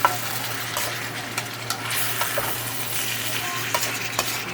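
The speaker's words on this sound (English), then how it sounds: "I am mixing everything now together with the sauce," Vegetables being stirred and fried together with a homemade sauce in a pan, a continuous soft sizzle with scraping and clacking stirring strokes, close up, no talking.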